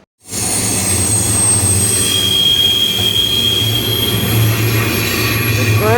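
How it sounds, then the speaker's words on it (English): Steel wheels of a passenger train squeal loudly as it rounds curves between Klamath Falls and Roseville. A sustained, piercing screech rides over a steady low rumble for the whole stretch, close and unbroken. "The train is screaming louder than I can. You hear that loud screech? That's because we're turning around corners."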